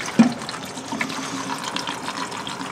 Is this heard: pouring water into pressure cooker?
yes